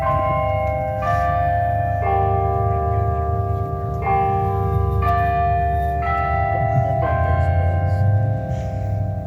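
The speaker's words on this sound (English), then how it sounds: "the church bells tolled when I started talking about him" Church bells toll in a slow sequence of ringing strikes, their tones overlapping and sustaining over a constant low background hum.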